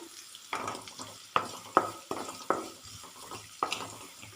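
Curry leaves sizzling in hot oil with mustard seeds, cumin and shallots, with a steady fry hiss broken by repeated sharp clinks and scrapes of a spoon stirring in the pan.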